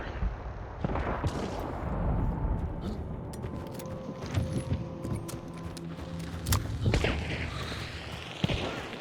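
Gunfire in the video game Hunt: Showdown, with scattered shots and booms over a steady, noisy game background, moderately loud and irregular, including a sharp report near the end.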